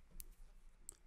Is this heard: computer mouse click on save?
yes